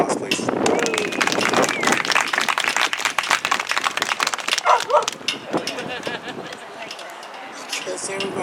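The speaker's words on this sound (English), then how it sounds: "If you can get a round of applause, please." Crowd applause at an outdoor Pride flag raising ceremony at City Hall in Seaside, California: dense, steady clapping for about five seconds that thins out, with voices and a few sharp yelps mixed in.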